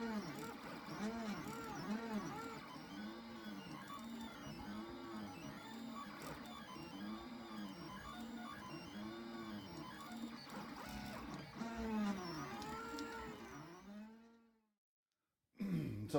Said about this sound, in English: shot of the printer working on the bowl that I did up in my 3D design